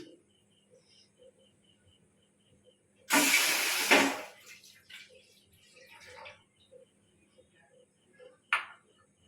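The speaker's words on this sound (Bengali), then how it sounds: "দুধটাকে ভালোভাবে ফুটিয়ে নেব" Milk heating in a pan on a lit gas stove for custard, with a loud burst of hiss and sizzle lasting about a second, then quieter crackles and a brief sharp hiss near the end, otherwise near silence.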